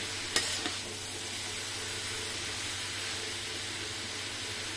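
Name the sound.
stirring garlic and onion into frying green papaya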